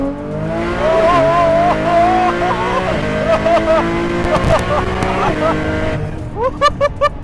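A Nissan GT-R tuned to 1,600 horsepower accelerating hard, its engine note climbing through loud, steady harmonic revs close by, with a gear change and a final burst of pulsing revs near the end.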